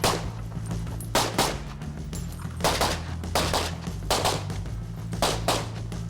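A competition shooter firing rapidly on a shooting course, loud sharp gunshots in quick bursts of two and three with short pauses between strings.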